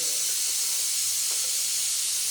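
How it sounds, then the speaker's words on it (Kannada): Pressure cooker hissing steadily while potato curry cooks in a home kitchen, a close continuous rush of escaping steam, alone without speech. "ಇಲ್ಲಿ ಕುಕ್ಕರ್ ವಿಜಿಲ್ ಆಗ್ತಾ ಇದೆ, ನನ್ನ ವಾಯ್ಸ್ ಕೇಳಿಸ್ದೇ ಇರ್ಬೋದು ನಿಮಗೆ."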